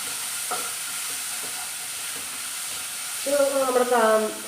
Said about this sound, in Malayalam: എല്ലാം കൂടെ അങ്ങോട്ട് കിടന്ന് വഴറ്റിയെടുക്കണം